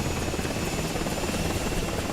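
A steady, loud, whooshing helicopter rotor drone fills the scene in a video game, constant and close with no breaks and no talking.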